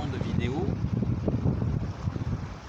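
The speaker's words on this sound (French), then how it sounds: "là il y a du vent, entre le vent et le bruit des vagues, ou la musique des vagues" Gusty wind sweeps across a seashore, rumbling against the microphone and blending with the low, continuous roll of breaking waves, loud and close throughout.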